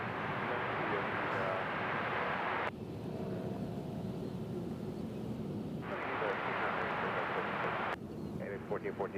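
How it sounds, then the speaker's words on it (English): A large airliner rolls onto the center runway at Cincinnati airport, its steady jet engine roar loud and continuous throughout, with the noise briefly thinning and then swelling again. "They're gonna turn in and go down that center runway right in front of us."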